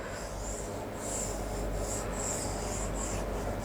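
Eraser rubbing across a board during a maths lesson, a steady scratchy swishing in repeated strokes, close and fairly quiet, with no talking.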